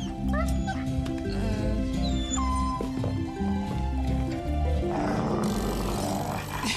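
A dog barks and growls in sharp, repeated bursts over a loud, busy backdrop of music and other sound.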